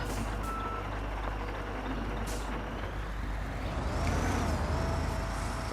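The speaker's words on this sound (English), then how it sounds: "So you can even hear the truck. It sounds quite nice as well. The engine sound in this thing is pretty good." Scania G500 6x2 truck in Construction Simulator, a six-cylinder diesel engine droning steadily and loud throughout, with repeated reversing beeps layered on top and a rising whine near the end.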